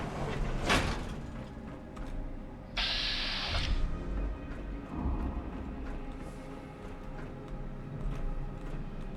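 A sliding door opens in the Fallout London video game with a short, bright mechanical whoosh partway through, set against a steady low ambient game hum.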